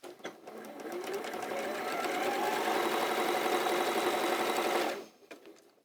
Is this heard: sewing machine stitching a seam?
yes